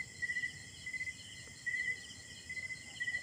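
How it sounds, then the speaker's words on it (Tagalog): Countryside insects chirp at night in steady pulsing bursts, a high rhythmic trill repeating every half second or so over a faint low background, fairly distant and quiet. "Marinig mo naman ang mga ingay ng mga insekto"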